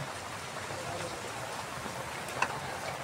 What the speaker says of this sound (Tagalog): oh, umuulan na naman